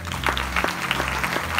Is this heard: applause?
yes